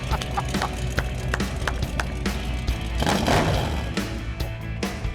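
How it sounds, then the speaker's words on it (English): A truck's V8 engine with glass pack mufflers, fired up and idling with a loose, lumpy burble, punctuated by sharp pops and revs, close and fairly loud. "Those are glass packs, baby!"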